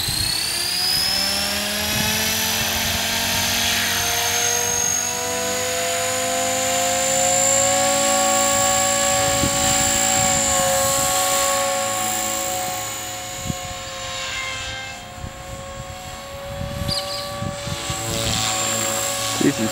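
A Blade 450 X radio-controlled helicopter takes off and flies in Perth, Australia, its steady high-pitched rotor and motor whine droning close and loud throughout, with some wind buffeting and a voice faintly underneath.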